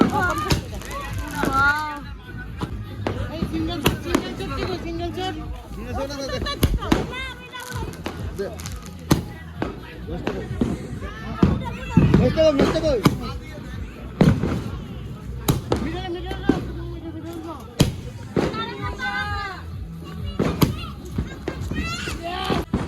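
Fireworks going off at an outdoor New Year celebration, with repeated thumping bangs and crackles at varying distances under constant lively chatter and voices of people nearby.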